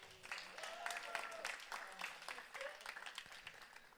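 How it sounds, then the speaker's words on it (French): Audience applause breaks out for a volunteer, a short burst of brisk clapping in a room at moderate distance, with faint voices mixed in. "Est-ce qu'on peut l'applaudir?"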